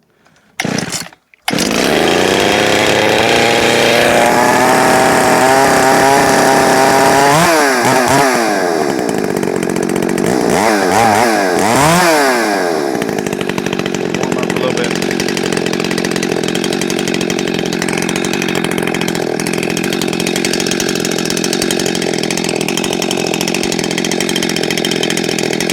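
A ported Echo CS800P chainsaw starts with a brief pull, then roars loud and close, revving up and down through several throttle surges before settling into a steady high-pitched run.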